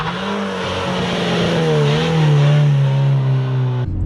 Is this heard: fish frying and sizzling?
no